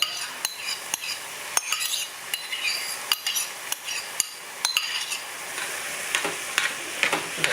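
Callaloo and cabbage are stirred in a cooking pot, in Jamaica, with a utensil scraping and clinking in an irregular rhythm over a steady close sizzle, with no talking.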